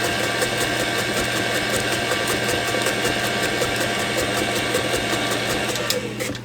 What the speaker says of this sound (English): I love this KitchenAid beater that has the thing on it that scrapes the side of the bowl.